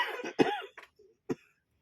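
An elderly man in a small house coughs, a few harsh close-up coughs and throat clears in quick succession, separated by short silent gaps.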